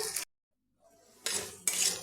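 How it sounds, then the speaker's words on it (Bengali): Onions sizzle and scrape in a pan while being stirred for a Bengali chana dal with fish head, in two short, fairly quiet bursts of metallic stirring and frying hiss around a brief pause. "এখন একটু পেঁয়াজ দিয়ে দিচ্ছি পেঁয়াজটা আমি বেশি মিহি করে কাটিনি এবার পেঁয়াজটা একটু ভেজে নেব"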